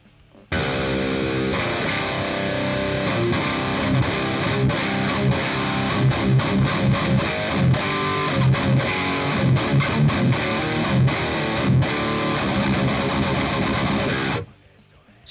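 A distorted electric guitar plays chords and riffs through an STL AmpHub amp-sim pedal, loud and dense for about fourteen seconds before cutting off abruptly.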